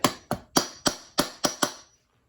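Seven sharp metallic taps, evenly spaced, as a wheel bearing seal is hammered down into place, close and loud with no talk.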